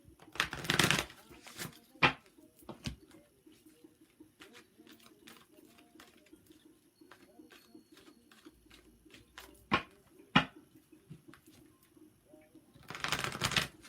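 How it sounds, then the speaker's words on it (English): Tarot cards are shuffled and riffled in a long sequence of soft flicks and taps, with louder bursts at the start and end. "So while I'm just shuffling and giving my cards a little bit of energy"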